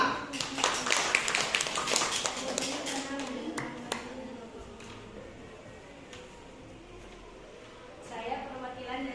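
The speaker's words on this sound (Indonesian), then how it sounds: "Tepuk tangan untuk kelompok 5." Scattered classroom clapping for a student group, a short burst of claps in the first few seconds that fades out, with talking around it.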